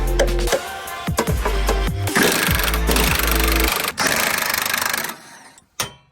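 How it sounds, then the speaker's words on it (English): Sharp metallic hammer blows drive a bolt through during a Ford Mustang drift car chassis swap, several quick hits in irregular bursts, loud and close, with grinding mechanical clatter between them. "I'm gonna try to slide this in through here and hammer it through"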